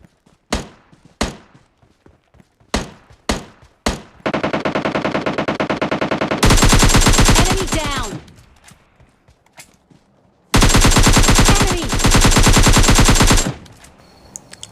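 Gunfire in the PUBG Mobile Lite battle royale game: several sharp single shots first, then long rapid automatic bursts that stop and start, loud and close, with a few footstep-like thumps between volleys.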